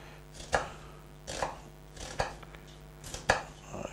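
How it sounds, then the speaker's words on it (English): A knife chops an onion into small pieces on a board, four distinct sharp knocks spaced about a second apart, close and clear with quiet room tone between and no talk. "cutting the onion. There we go, as we always do. Small pieces."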